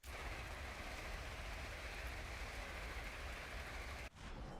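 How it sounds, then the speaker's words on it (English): Rain in the Prince of Persia video game is a dense, steady static-like wash that is loud and unbroken, then cuts out briefly near the end. "What is that noise? Is that supposed to be rain?"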